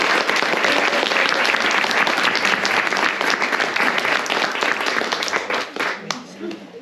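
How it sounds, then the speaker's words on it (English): An audience at a book event breaks into sustained applause for a speaker, dense clapping from a full room that holds strong before thinning out and tapering toward the end. "let's give Maurice a big round of applause"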